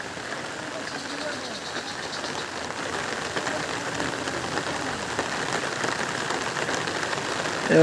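Steady rain patters on a surface throughout, a dense, even hiss with scattered drops, close and fairly loud.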